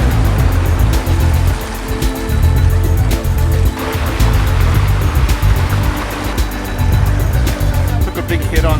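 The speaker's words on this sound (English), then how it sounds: "those are just big fun rolling waves" Rolling river waves on the Zanskar River in India, a loud continuous rush of turbulent whitewater with rhythmic surging and splashing, heard up close from a raft.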